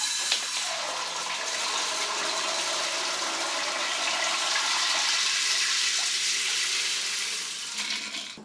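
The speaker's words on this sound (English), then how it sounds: "I've never tried to flush popcorn kernels" A toilet flushes six pounds of popcorn kernels, a loud, steady rush of swirling water that holds for about eight seconds before tapering off at the end.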